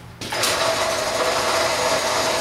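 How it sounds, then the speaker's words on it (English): A drill press motor spins up abruptly and then runs at a steady high whine, loud and close, without pause. "Using my dad's drill press here"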